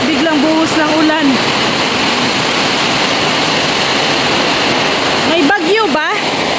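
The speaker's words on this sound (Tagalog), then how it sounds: "Grabe, biglang buhos ng ulan." A sudden heavy downpour roars as a steady, loud wash of rain, with a voice speaking briefly over it at the start and again near the end.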